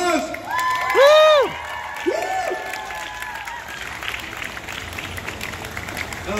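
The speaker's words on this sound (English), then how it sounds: "let's give a round of applause." A crowd at a March for Black Lives rally in Canada claps and cheers, with loud whoops and shouts rising early and then continuous applause that carries on at a steady level.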